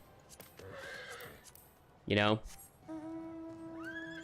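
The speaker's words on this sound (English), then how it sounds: "unlocking these whistles, which allow you to get this one, the Fire Horse" A Fire Horse mount in a video game lets out a loud, shaky whinny in the middle, surrounded by game sounds and steady tones, with a person talking briefly before it.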